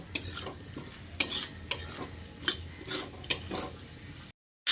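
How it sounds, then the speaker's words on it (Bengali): Fried potato pieces stirred with spices in a pan for a vegetarian cabbage dish, giving a steady sizzle broken by about six sharp scraping stir strokes, close and alone, before a brief silence and a sudden loud burst at the end. "ভাজা আলুটা দিয়ে মশলার সঙ্গে আরও কিছুক্ষণ কষিয়ে নিতে হবে"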